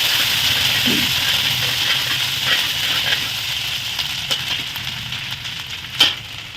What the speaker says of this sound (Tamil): இதை வந்து நல்லா எண்ணெயிலே வந்து நல்லா வதக்கிக்கணும்